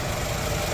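A Toyota Camry engine idles steadily with a faint rhythmic knocking from the balance shaft running under the low hum.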